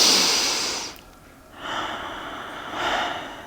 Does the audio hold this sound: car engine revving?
no